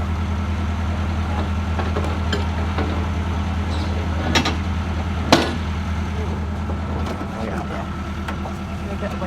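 A narrowboat's engine runs with a steady, low, throbbing idle as the boat moves off on a winter canal trip, with a couple of sharper knocks and faint voices in the background.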